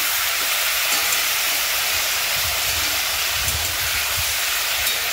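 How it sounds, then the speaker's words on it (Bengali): Chicken frying in a pan for chicken posto, a steady loud sizzling hiss throughout with soft low crackles underneath. "আর একবার ভালো করে চিকেনটা একটু ভেজে নিচ্ছি।"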